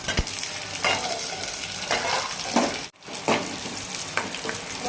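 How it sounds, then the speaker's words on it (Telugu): Hot oil sizzles steadily as chana dal, mustard seeds, cumin, dried red chillies and green chillies temper for tamarind pulihora, with scraping stirs every second or so and a brief hush near the middle. "ఆవాలు, కొంచెం జీలకర్ర, ఎండుమిర్చి, పచ్చిమిర్చి,"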